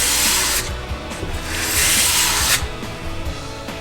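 A Mora Companion knife blade scraping across an 800 grit sharpening stone in steady back-and-forth strokes, a close, continuous gritty hiss with no talk.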